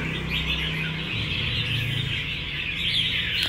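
An oriental magpie robin (chích chòe), a songbird, chirps and warbles close and loud in a steady, unbroken stream of bright, rapid calls, with no voices present.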